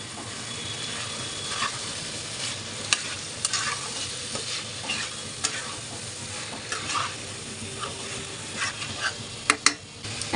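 Chopped tomatoes tipped into a pan of frying chicken kabsa and stirred, a steady close sizzle with scraping spoon strokes and occasional sharp clacks against the pot, no voices.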